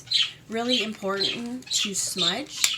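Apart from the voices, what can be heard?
pet birds squawking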